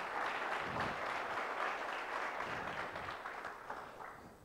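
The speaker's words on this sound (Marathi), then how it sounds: "त्यांच्यासाठी टाळ्या होऊन जाऊ देत एकदा" An audience at a project competition prize distribution claps for the Project Look Smart team, a steady wash of applause from many hands that holds evenly, then thins slightly toward the end.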